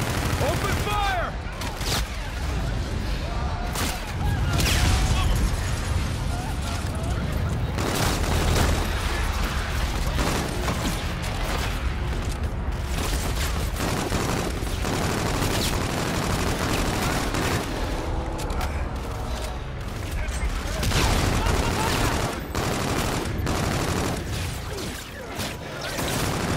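Heavy firefight in the Call of Duty: Infinite Warfare campaign: rapid automatic gunfire, overlapping bursts and occasional explosions roll on continuously at close range, with shouted voices mixed in.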